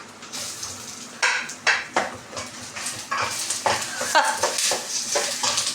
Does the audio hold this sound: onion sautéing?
yes